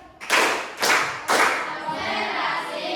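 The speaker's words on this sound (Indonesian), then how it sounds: "Tepuk 3 kali." Three sharp hand claps from a group in a classroom, spaced about half a second apart, each a loud broadband burst that decays into a lingering murmur of room noise.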